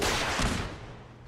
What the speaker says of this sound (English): Needed to get a little further to get the explosions.